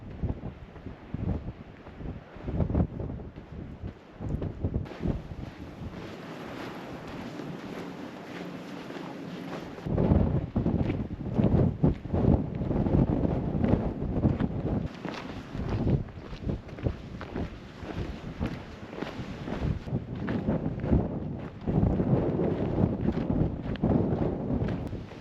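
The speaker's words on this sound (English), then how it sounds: "It is windy out here, super windy." Strong wind gusts buffet the microphone on a hike into Coyote Gulch with a deep, roaring rumble that surges and eases in waves for a long stretch, no voices.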